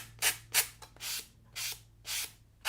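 Raspy back-and-forth sanding strokes of a nail buffer rub against a paper edge, about seven short passes in an even rhythm, close and fairly soft with no talking.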